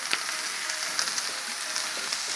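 Bacon and smash burgers sizzle on a grill for a bacon double cheese smash burger cook, a steady broadband crackle with a few sharper pops, heard close with no talking.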